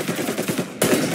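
Rapid bursts of gunfire crackle through a shootout in Mafia Definitive Edition: a rhythmic volley of shots, then a sharper, louder burst near the end, with no voices.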